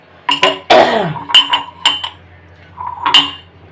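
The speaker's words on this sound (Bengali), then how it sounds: "এই যে তিনটা কাপে গুড় অলরেডি দিয়ে দিচ্ছি ঝোলা গুড়" A spoon knocks against ceramic tea cups while liquid jaggery is added for tea, several sharp separate clinks ringing out in an irregular sequence, close and loud with short pauses between.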